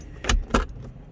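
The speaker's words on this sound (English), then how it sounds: "These keys are in it" Keys jangle in a solid older project car, two distinct bursts of metallic clinking close by with a low rumble between them and no talk.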